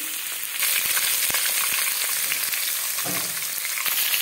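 Vegetables for veg chowmein frying hard in a pan, a loud continuous sizzle with occasional stirring scrapes, no voices.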